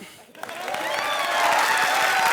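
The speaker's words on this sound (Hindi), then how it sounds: "चलो जोर से ताली बजाओ।" A studio audience at a TV comedy show claps loudly, the applause swelling steadily into a dense, sustained roar with some cheering mixed in.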